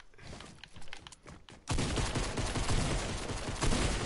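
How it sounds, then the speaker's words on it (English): Pistol gunshots in a video game, a sudden loud, dense volley of rapid shots after a quieter start with scattered clicks, continuing close and sharp to the end. "Jack, I killed you with the great pistol after a 192 to the face."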